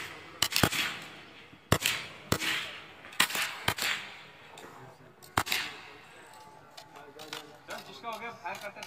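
Rifle shots at an Indian NCC firing competition crack out singly at irregular intervals, sharp and fairly close, over a noisy outdoor range background.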